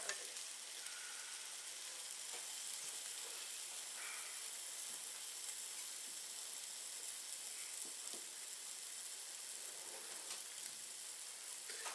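A crab egg omelet sizzles in a pan while it is stirred, giving a steady bright hiss of frying for the whole stretch, with faint occasional scrapes and no voices.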